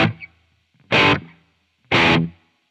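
Electric guitar through an Amplitube 5 default Marshall-style amp tone, distorted and thick: three short, loud strummed chords, each cut off into silence.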